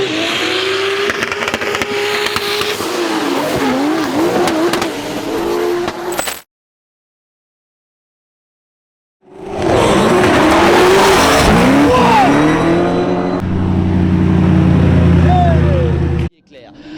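Drift race cars in a French championship final slide through corners, tires squealing in long wavering tones and engines revving hard, over a loud continuous roar; a brief silence splits two bursts of skidding.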